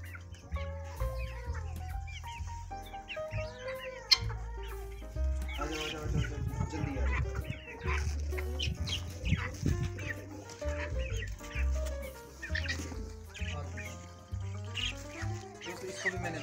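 Chicks cluck and chirp continuously at close range, a busy flock chattering over a low rumble.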